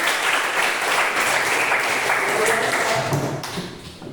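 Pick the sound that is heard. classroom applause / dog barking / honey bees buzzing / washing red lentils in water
classroom applause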